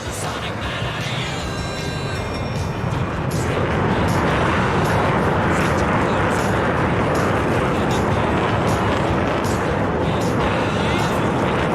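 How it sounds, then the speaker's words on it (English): NASA high-alpha research jet with GE engines roaring loudly overhead at an air show, a broad sustained engine noise that swells after a few seconds and holds strong to the end, with faint crowd talk beneath. "Listen to the whine of those GE engines."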